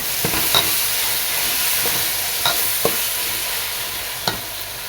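Tomatoes with mint sauté in a pan under a constant soft hiss of frying, punctuated by several distinct clicks and knocks of a spoon stirring against the vessel at irregular intervals.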